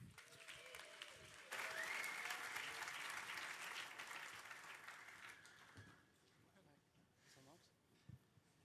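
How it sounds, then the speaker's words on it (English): Hackathon audience giving a finalist a round of applause at a closing ceremony, sustained crowd clapping with some cheering that tapers off, followed by a few voices. "Let's give a massive round of applause for our very first finalist of the day"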